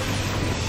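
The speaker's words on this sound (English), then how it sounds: "This fucking Sigmascape, the second block, opens with a goddamn train." A train boss in the Final Fantasy XIV Sigmascape raid rumbles steadily, with a continuous low mechanical roar and faint rail clatter filling the short stretch with no voices.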